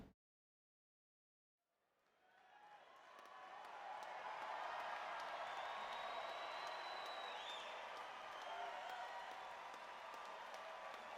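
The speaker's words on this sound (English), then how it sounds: "Crowd noise is pretty loud." Crowd noise at a live music show recording from Bethel, New York swells up from silence into a dense, sustained roar of applause and cheering that holds steady, distant and without speech.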